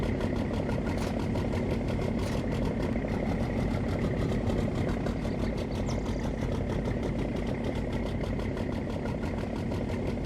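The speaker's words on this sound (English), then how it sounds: "Here you can see the Tribine harvester. It is an absolute beast. And it is articulating, so this thing sounds" Tribine articulating harvester engine in Farming Simulator 19, a loud, steady idling drone with a rough, slightly knocking mechanical rumble that holds unchanged throughout.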